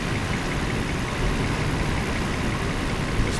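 A 1997 Mercedes S600 coupe engine idles steadily with a low, continuous rumble and faint vibration, no voices, constant level throughout.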